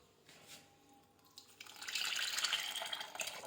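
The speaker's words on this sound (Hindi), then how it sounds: "अब इसके अंदर हम डालेंगे चाशनी।" Sugar syrup is poured into a sweet mixture, a soft liquid splashing and trickling that begins faintly and swells into a steady pour over the last couple of seconds, close by and alone.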